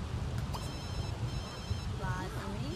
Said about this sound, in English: Silence the phone.